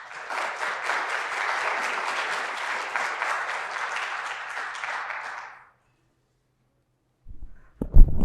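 Warm, steady audience applause for a lecturer at an evening talk, filling the room for about five seconds before stopping abruptly, followed by silence and then a few handling bumps near a microphone.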